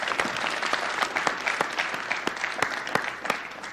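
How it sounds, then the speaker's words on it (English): Enthusiastic audience applause, dense clapping from a crowd with a few sharp louder claps standing out, sustained throughout. "Let's have a big round of applause for Kia"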